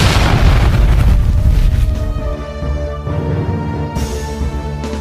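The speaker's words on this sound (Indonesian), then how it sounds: "Mereka yang melihat dan mendengar ledakan itu menahan nafas." A loud explosion as a boulder of hard stone shatters under the strike of a giant arrow, a heavy deep boom at the start that rumbles and decays over several seconds.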